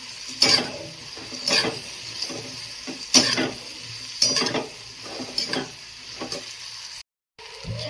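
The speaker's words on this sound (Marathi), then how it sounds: "छान अशा शेवया मिक्स करून घ्यायच्या" A spoon scrapes and knocks rhythmically against a metal pan while vermicelli is stirred and mixed, sharp strokes roughly once a second over a faint sizzle, then a brief silence near the end.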